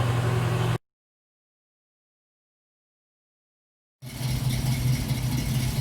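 A 1981 Pontiac Trans Am V8 with a shaker hood runs at a steady, rumbling idle, broken by about three seconds of silence before the engine note returns just as steady.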